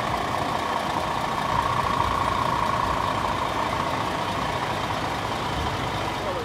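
A large truck loading rapeseed through its top hatch on a farm runs steadily, with a continuous engine drone and a broad rushing, pouring noise throughout, no pauses and no talk.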